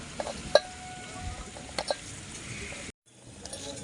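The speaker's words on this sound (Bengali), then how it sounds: "এবার একটু হাত দিয়ে আমি চটকিয়ে নেব" Cooked, cooled banana flower is squeezed and mashed by hand in a village kitchen, giving soft, faint squelching and a few sharper clicks of contact, with a short silent gap near the end.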